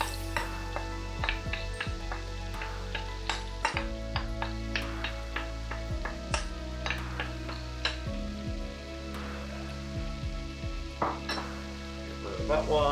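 Shallots and three cloves of smoked garlic sizzle steadily in a hot pan, with scattered clinks and scrapes of a utensil stirring against the metal throughout.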